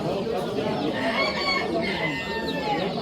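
Chickens clucking amid the bustle of the Pasdargom flea market in Samarkand, a steady busy wash of noise with bird calls rising over crowd murmur and voices.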